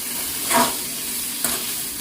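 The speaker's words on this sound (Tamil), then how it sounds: "இப்போ இந்த வெங்காயத்தையும் ஆட் பண்ணுறேன். ஆட் பண்ணி மிக்ஸ் பண்ணி விடுவேன்." Onions are stirred into dried fish frying in a pan, a steady sizzle with two brief scraping swishes of the spoon.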